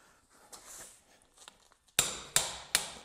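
A handheld impact driver loosening brake screws on a Chevy C50 truck. After quiet shuffling come three sharp, loud metallic strikes about a third of a second apart.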